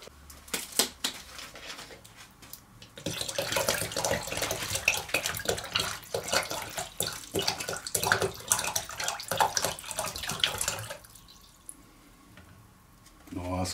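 Water is poured into a container to make salt water for electrolysis etching of steel. A few faint clinks come first, then several seconds of continuous close splashing and trickling that stops abruptly, leaving quiet room tone.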